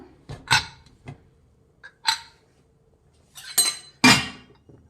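A pressure cooker lid being handled and opened, heard as a handful of separate metallic clinks and clanks, close and sharp, spaced out with quiet gaps between them and no speech.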